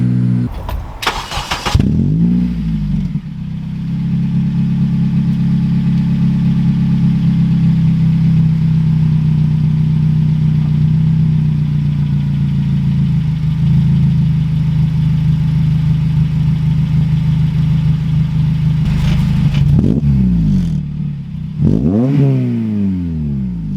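A Honda Civic Type R FN2 engine with a custom 3-inch exhaust starts, then idles with a deep, steady exhaust drone for a long stretch before being revved and shut off near the end.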